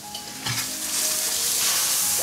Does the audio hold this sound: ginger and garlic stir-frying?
yes